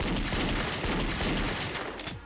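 Rapid, dense gunfire from a Danganronpa Another shooting mini game fills the moment as a loud, continuous burst that fades slightly at the end.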